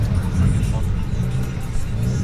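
Audi RS3 engine rumbling steadily up close with a deep, loud low-end drone over about two seconds, no clear rev peaks, while people chatter over it.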